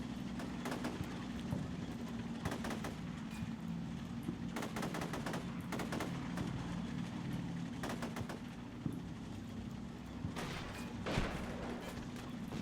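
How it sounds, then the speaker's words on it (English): BMP infantry fighting vehicles firing machine guns in the war game Combat Mission: repeated short bursts of distant automatic gunfire crackle over a steady low engine drone, fairly quiet, with no voices. "that sounds like my BMPs are getting into it"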